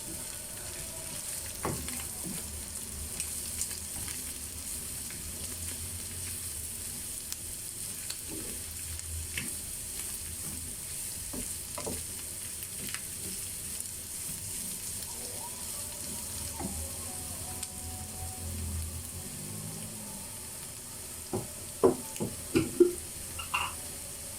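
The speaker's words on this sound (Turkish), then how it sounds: "Bir adet havucum var. Onu da rendeledim. Şöyle onu da kavuruyorum." Grated carrot and onions sautéing in a pan for lasagna, a soft, steady sizzle at low volume with faint stirring, ending in a few sharper utensil knocks.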